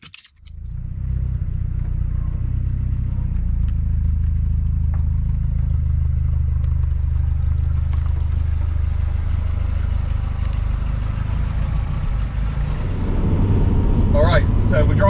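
A 1971 Datsun 510 barn find, lowered and with some faults, drives along with a steady, loud engine and road rumble from inside the cabin after a brief start, rising slightly near the end.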